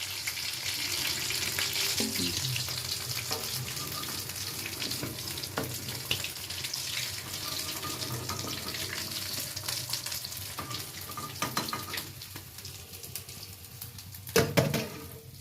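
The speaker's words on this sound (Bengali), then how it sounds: "পরেরগুলোকে এভাবে ভেজে নিচ্ছি।" Bread slices frying in hot oil for an easy tea-time snack, giving a steady close sizzle throughout with occasional clinks and brief splashes of handling near the end.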